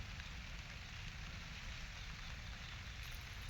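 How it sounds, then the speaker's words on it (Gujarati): Heavy monsoon rain falls steadily on a cotton farm field, a constant faint hiss of drops on surfaces with no pauses and no voices. "બહુ બધો વરસાદ અત્યારે આવી રહ્યો છે"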